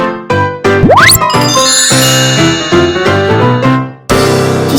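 A busy cartoon-style jingle of bright dings, tinkles and a rising boing-like swoop, arranged as a sequence of short loud bursts separated by brief gaps, with no talking.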